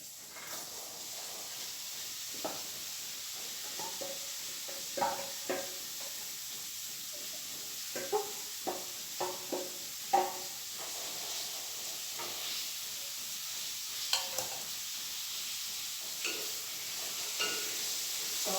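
Chopped onions fry in hot oil for a soybean curry, giving a steady close sizzle and hiss broken by frequent scraping and stirring strokes of a spoon in the pan.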